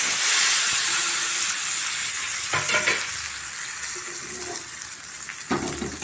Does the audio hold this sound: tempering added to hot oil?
yes